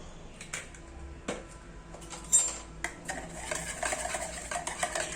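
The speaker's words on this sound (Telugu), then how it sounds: "ఈ 3 ఇంగ్రీడియంట్స్ని షుగర్ మెల్ట్ అయ్యే వరకు మనం బాగా కలపాలి" Two eggs, sugar and a teaspoon of vanilla essence are mixed in a bowl for homemade pancake batter, with an utensil clinking and scraping in irregular strokes, close by, with no talk.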